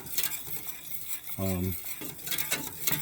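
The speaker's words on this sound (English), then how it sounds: "You got to whisk it real good so there's no lumps." A whisk scrapes and clinks against a pan while stirring a butter-and-flour gravy, with quick metallic taps, a short tonal squeal in the middle, and a faint sizzle underneath.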